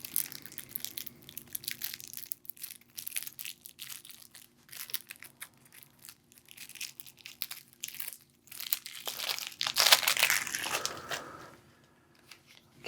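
The plastic wrapper on a pack of Terraforming Mars: Ares Expedition cards crinkles and crumples in scattered bursts up close, then builds into a louder, sustained rip and crunch as the pack is torn open.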